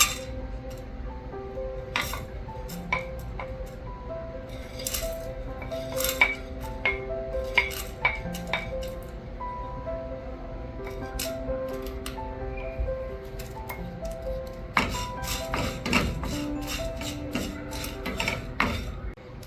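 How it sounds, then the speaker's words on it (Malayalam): Whole spices dry-roasting in a hot pan for a Kerala-style beef curry, heard as steady clinks, ticks and scrapes of a utensil against the pan, with a busier burst of rattling near the end over a faint tonal background. "ചട്ടി ചൂടായിട്ടുണ്ട്, അതിൽ ഞാൻ ഈ സ്പൈസസ് എല്ലാം ഇട്ടൊന്ന് വറുത്തെടുക്കുകയാണ്."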